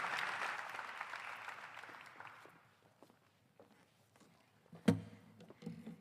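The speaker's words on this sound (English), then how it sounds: "Can we give our city council another round of applause?" Audience applause at a State of the City 2025 event for the city council in Monroe, Louisiana, loud at first, then fading over about three seconds into quiet, with a sharp thump and a few scattered claps near the end.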